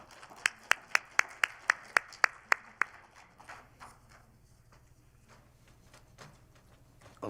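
Audience applause at the 60th-anniversary ceremony of a Korean women journalists' association, opening with a run of about ten sharp, evenly spaced claps up close, then fading into quieter scattered clapping.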